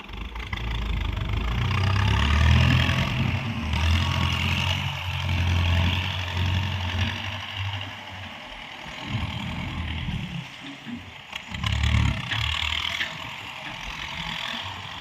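Kubota M9000 turbo intercooler tractor engine running at low throttle while its front blade pushes and levels soil, a steady low rumble with mild surges, close and continuous, no talk.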